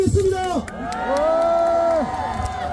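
A crowd cheering at a street protest rally calling for the president's ouster, loud sustained shouts and whoops rising and holding, with faint clapping mixed in.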